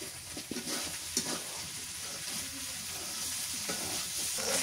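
Goat head meat stirred and braised in a pan on a village clay stove, with steady soft sizzling and scraping stirs at a moderate distance, and no talk.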